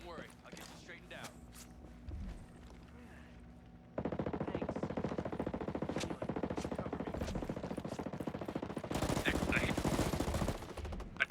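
Sustained automatic gunfire in the Ghost Recon Frontline video game comes in fast rattling bursts, quiet at first and then loud and continuous, with footsteps in between.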